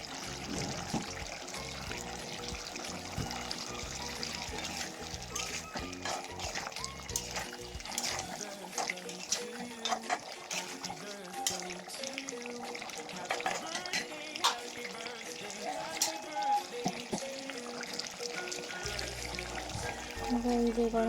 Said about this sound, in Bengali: এবার এই যে গরম পানিটা দিয়ে দিবে, এখন সবটুকু দিয়ে দিব।